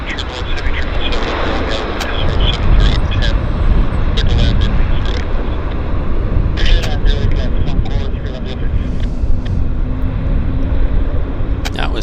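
An airliner lands at Vancouver Airport with a loud, steady roar of engines and rushing air, broad and continuous with sharp crackles, while people talk over it.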